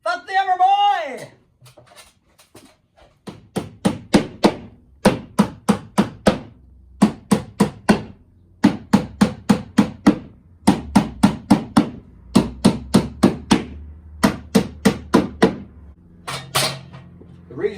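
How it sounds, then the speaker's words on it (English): Rapid series of sharp hammer blows driving ring shank nails, in bursts of several strikes with short pauses, close and loud, a brief voice at the start. "if you whack these ring shank nails in"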